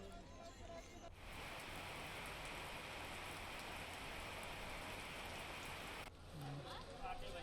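Heavy rain pours steadily in Uttarakhand, a dense, even hiss that fills the middle of the clip, with a voice speaking briefly before and after it.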